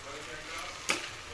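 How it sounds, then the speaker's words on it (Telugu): Thinly sliced vegetables fry in a pan with salt added, giving a steady soft sizzle throughout with a brief sharper scrape of stirring near the end. "వేసి మధ్య మధ్యలో కలుపుకుంటూ ఫ్రై చేసుకోవాలి."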